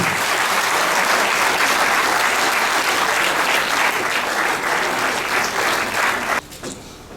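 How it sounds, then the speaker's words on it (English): Audience applause fills an administration faculty lecture session, dense steady clapping at close range that runs loud and even for about six seconds before dropping off abruptly into quieter scattered claps. "Let your applause be gender sensitive."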